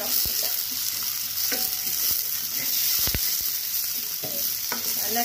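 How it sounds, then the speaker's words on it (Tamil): Tomato and small peppers sizzle in a pan for a mushroom prawn curry, close and steady, with repeated clinks and scrapes of a spoon stirring against the pan and no talking. "நம்ம இப்போ வந்து தக்காளியை போட்டு நல்லா வதக்கணும்"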